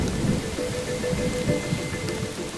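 A rainstorm sound effect: dense, constant rain hiss mixed with low rolling rumbles of thunder, a steady wash of stormy weather with no voices.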